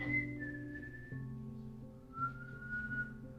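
A person whistles sustained, slowly gliding tones, one long note, a pause, then another steady note, close and clear over a low background hum.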